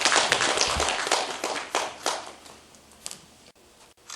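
Dense clapping from a seminar audience applauding a Buddhist monk after a speech, loud at first and thinning into scattered claps before stopping.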